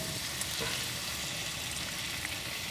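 Marinade hits a hot pan and sizzles in a steady, even hiss of frying with no talk, continuous and fairly close throughout.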